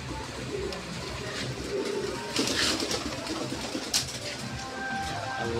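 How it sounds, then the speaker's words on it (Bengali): Toy Lahori fancy pigeon cooing softly on a farm, low murmuring coos running steadily under faint background noise and a couple of brief brighter rustles. "আর এটা হচ্ছে আমার খুব ভালোবাসার একটা কবুতর, টয় লাহোরি।"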